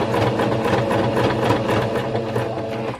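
A sewing machine stitches fabric for a onesie outfit, a steady close whirring hum with a rapid needle rattle running for about three seconds before stopping abruptly.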